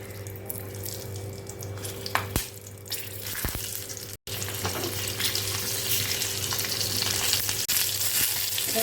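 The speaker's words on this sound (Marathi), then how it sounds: "मिरची फ्राय करायला सोडायची आहे तेलामध्ये." Stuffed green chillies fry in a thin layer of oil in a kadai, giving a steady close sizzle throughout with a few brief clatters and one short dropout midway.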